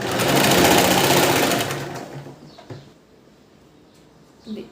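A sewing machine stitches a princess-cut blouse in a loud, rapid whirring run for about two seconds, then stops, leaving faint clicks and handling sounds.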